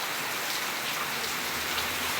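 Heavy monsoon rain pours steadily in Jalotra, a dense, even hiss of rainfall on surfaces that stays constant and fairly loud throughout with no voices.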